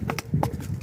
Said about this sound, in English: Here is the little cheeky mare.